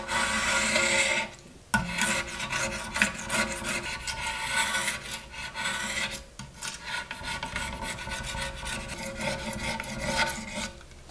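Razor scraper fitted with a fresh blade rasping hard water buildup off aquarium glass, a close, steady scratching that runs nearly continuously with one brief pause early on.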